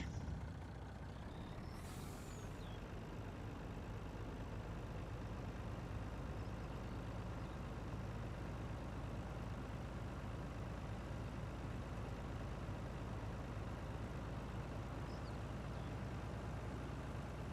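A truck drives in the video game Farming Simulator 19, heading to the co-op: a steady, low engine drone holds throughout at moderate level, with a brief hiss near the start.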